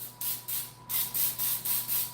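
Cooking spray hisses from an aerosol can in repeated short bursts, about six spritzes in a steady rhythm, close and fairly loud over a low background hum.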